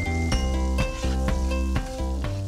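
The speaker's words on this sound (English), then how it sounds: "reusing the same pan for my chopped white onions" Chopped white onions frying in a pan reused after searing beef, a steady loud sizzle running throughout with regular rhythmic bursts, roughly every half second, like stirring or tossing.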